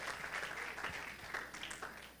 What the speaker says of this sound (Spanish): Dele ese aplauso al Señor y tome su asiento.